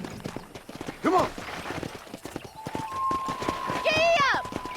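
Hooves clip-clop steadily as a horse gallops in the Red Dead Redemption video game, close and continuous beneath in-game voices and a brief whinny-like call.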